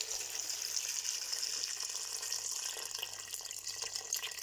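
Water from a tap runs steadily into a pan of rinsed rose hips, a continuous close hissing splash with no talk over it.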